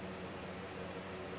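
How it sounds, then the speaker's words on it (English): An electric fan runs in a home garage workshop during a car restoration, giving a steady, even whirring hiss with a low hum that stays constant throughout, with no talking. "apologize for the fan in the background"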